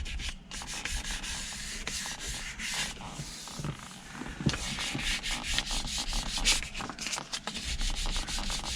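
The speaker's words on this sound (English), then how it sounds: "So I started off with 300 grit, lightly sanding, and this is 600." Rhythmic back-and-forth strokes of 600 grit sandpaper rubbing a steering wheel, close and steady, a dry scratchy swish repeating continuously.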